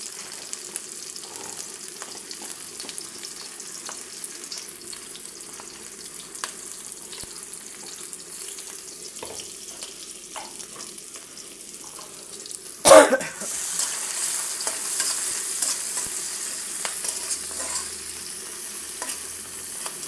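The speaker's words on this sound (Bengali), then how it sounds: "এখন আমি দিয়ে দিলাম পেঁয়াজ কাটা, রসুনের থেঁতা আর কাঁচামরিচ" Chopped onion, crushed garlic and green chillies fry quietly in a wok with a soft continuous sizzle and faint stirring; a sudden sharp noise about two thirds through is followed by a slightly louder hiss.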